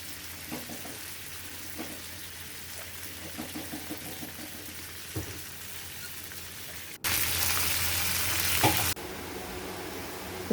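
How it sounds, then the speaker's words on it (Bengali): Chicken pieces fry gently in oil for a korma, a soft, low sizzle with faint stirring sounds, then a louder burst of hissing for a couple of seconds before settling again. "হালকা করে ভেজে নিব আমি মুরগিগুলো"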